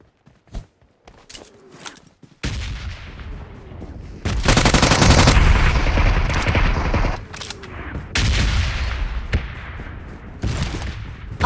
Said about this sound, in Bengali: গুলি করছে কাটে ভাই।